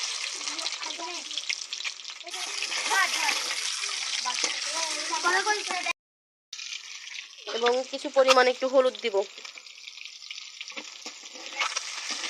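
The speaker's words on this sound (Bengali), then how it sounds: "এখন আমার খিচুড়ি প্রায় হট তেলে দিয়ে দিব, এবং সবগুলোকে ভেজে নিব সুন্দর করে।" Khichuri sizzles and crackles steadily as it fries in hot oil in a picnic cooking pot, with a brief pause partway through, while a person talks over the frying.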